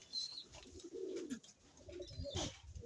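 Pigeons coo softly outdoors, several low throaty calls in a faint, quiet setting.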